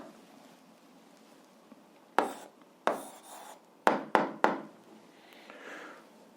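Pen or chalk strokes from handwriting an algebra answer, a few sharp scratchy marks in quick succession with short gaps, close and fairly loud against a quiet background.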